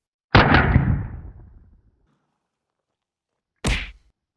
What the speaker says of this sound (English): All right, Scorpion submachine gun.